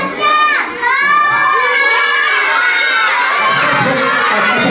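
A group of kindergarten children shout all at once in a loud, dense burst of overlapping high voices that holds for several seconds, like a cheering crowd of kids close by.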